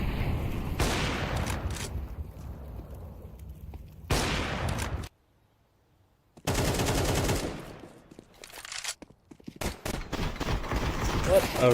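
Bursts of AK rifle fire in a Counter-Strike-style esports match at a European Pro League game, several loud rapid volleys separated by short pauses, with a caster's voice talking over them.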